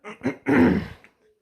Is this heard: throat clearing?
yes